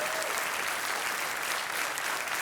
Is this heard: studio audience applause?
yes